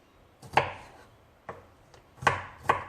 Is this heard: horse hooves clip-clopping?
no